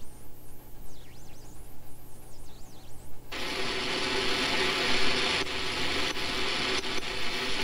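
Shortwave radio reception on an SDRPlay RSPdx receiver near 10 MHz: a quiet hiss with faint warbling tones at first, then a sudden loud wash of broadband static and noise with steady carrier tones and occasional clicks, no talk.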